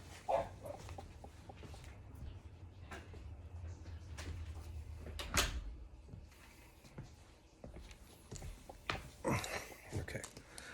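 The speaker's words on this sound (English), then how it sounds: "let me close the door because of the dogs" A door is pushed shut indoors, giving a single solid thud midway through, with quieter knocks and room noise around it and no talking.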